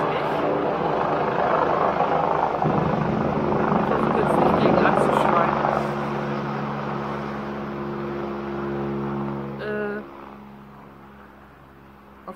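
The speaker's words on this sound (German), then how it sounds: "Ansonsten fliegt hier gerade irgendwie ein Hubschrauber oder so." A helicopter passes overhead with a steady low rotor thrum that swells and then fades away, while someone talks close by.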